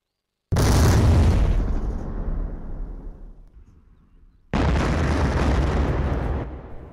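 Two heavy artillery blasts from a counterfire unit engaging an enemy mortar boom out a few seconds apart, each a sudden loud crack with a long rumbling decay.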